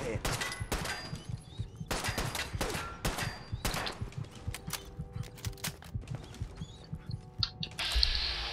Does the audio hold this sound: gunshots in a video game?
yes